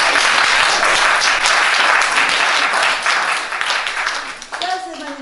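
An audience applauds loudly at a live talk, a dense wash of clapping that thins out over a few seconds as a voice comes back in.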